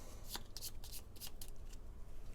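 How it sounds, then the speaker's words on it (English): Gloomhaven board game cards are shuffled by hand, a quick series of crisp riffling bursts close up and faint, each a short papery flutter. "a little shuffle."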